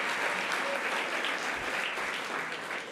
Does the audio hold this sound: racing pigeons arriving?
no